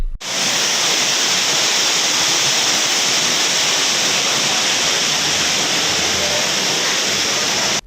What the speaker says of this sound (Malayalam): മഴ ശക്തമായതോടെ ഓഫീസിലേക്ക് കൂടുതൽ വെള്ളം ഇരച്ചെത്തി.